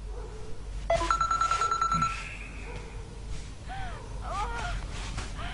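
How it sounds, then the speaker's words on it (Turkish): A telephone rings with a short electronic trill in a home scene from an Uzbek drama series, heard briefly amid background sounds and voices. "Telefoningiz jiringlayapti, olsangiz-chi?"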